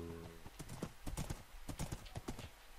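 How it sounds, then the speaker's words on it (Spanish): Horse hooves clip-clopping at a fast gallop in a Minecraft survival game, with rapid rhythmic thuds and a brief whinny, loud and close, with no talk over it. "Pero caballo, caballo, ¿dónde vas tú tan acelerado, tío?"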